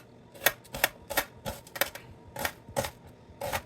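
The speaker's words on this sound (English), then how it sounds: "finely chop the onion" Sharp knife finely chopping onion on a cutting board for a South Indian squid masala, a quick irregular series of crisp close taps, about a dozen in under four seconds, with no talk.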